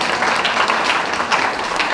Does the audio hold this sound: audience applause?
yes